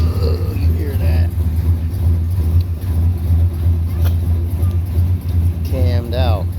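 A rebuilt, cammed 5.7 V8 in a 1992 Chevy Silverado with Flowmaster exhaust idles with a steady, deep rumble throughout, close and loud, with a person speaking over it.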